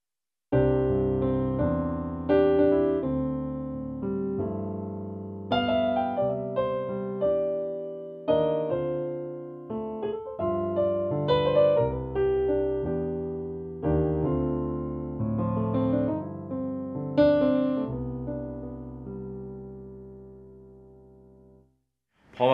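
Kawai CN201 digital piano playing its SK grand piano voice, a solo melodic passage of clear notes and chords in steady phrases, moderately quiet, with nothing else heard.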